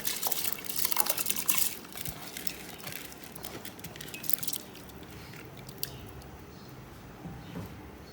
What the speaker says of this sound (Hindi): अभी मैं डालने लगी हूँ चावल। ये 500 ग्राम चावल है।